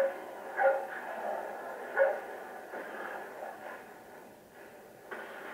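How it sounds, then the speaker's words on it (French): A dog barks in the video game Resident Evil 4, a few brief yaps spaced over several seconds, fairly faint against quiet game ambience. "c'est un chien, c'est pas un loup"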